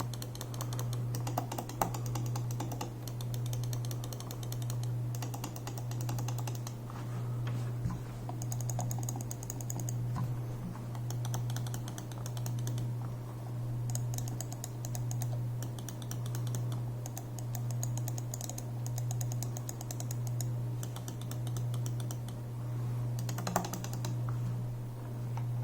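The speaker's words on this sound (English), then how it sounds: "This is the optical switch of the Deathadder V2 with 70 million clicks." Optical switch of a Razer DeathAdder V2 mouse clicking in quick, light, close-up taps, a near-continuous clatter over a steady low electrical hum.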